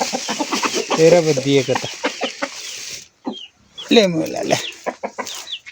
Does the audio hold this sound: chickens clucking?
yes